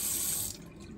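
Hot water runs from a tap for making coffee in a hotel room, a brief steady hiss of flowing water that softens and drops away after half a second.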